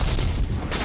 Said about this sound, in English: Continuing with the guns, the audio when you fire them sounds very authentic